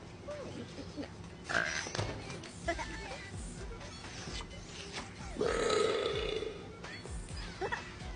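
A loud, drawn-out soda burp rings out amid a noisy, cluttered background, with a shorter croaking sound earlier on.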